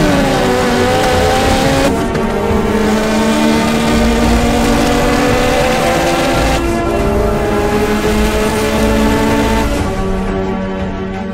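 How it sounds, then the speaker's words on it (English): A big-turbo all-wheel-drive Honda Civic engine roars loudly and steadily at high speed, a dense continuous drone with shifting tones and no voices. "That was probably the fastest car I've ever been in, and it was absolutely insane."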